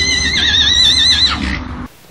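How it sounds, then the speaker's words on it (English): A horse whinnies loudly and close by, a long wavering call that rises, holds, then falls away before cutting off into quiet, with no talk over it. "I love this horse."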